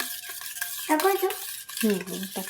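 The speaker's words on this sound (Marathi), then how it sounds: "त्यामध्ये टाकून घेते, मिक्स करायचं." Chopped salad of onion, green chilli, tomato and coriander being stirred into sweetened curd in a bowl, a wet, soft mixing and scraping heard up close, with a spoon tapping faintly against the bowl.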